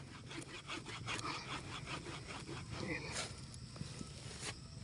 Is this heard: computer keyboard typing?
no